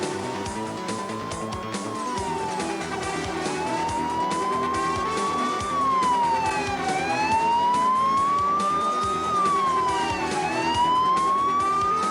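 Wailing police siren from an unmarked Rover speed-enforcement chase car, rising and falling steadily over continuous road and engine noise, loud and close throughout.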